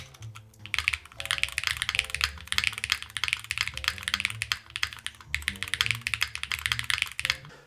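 Typing on a Hall effect keyboard fitted with Geon raw switches, a rapid, continuous stream of close, crisp keystrokes with deeper thocky hits mixed in, two short pauses breaking the rhythm.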